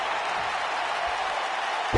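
A capacity arena crowd cheers in the WWE 2K19 wrestling game during a steel cage match, a steady, broad roar of applause throughout, rising slightly at the very end.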